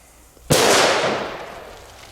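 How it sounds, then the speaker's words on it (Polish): A Gaoo Achtung H1 firecracker explodes once with a sharp, loud outdoor bang, followed by a decaying rumble that fades over about a second and a half. "świetne petardy do luźnego postrzelania sobie, świetne petardy na Sylwestra"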